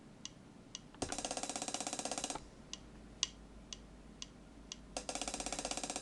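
Rapid, tight ticking bursts of an Alesis SR-16 drum machine's closed hi-hat and fill roll in twice, separated by sparse single clicks, with an uneven, slightly off-beat feel.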